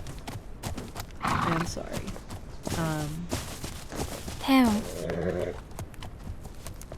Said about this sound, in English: I know, the horse is going to make a lot of noise because of the cold.